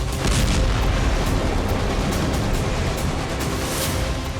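Explosions from multiple drones striking the Dnipro railway station during the Russia-Ukraine war, a loud, dense, continuous roar of blasts and rumbling with no voices.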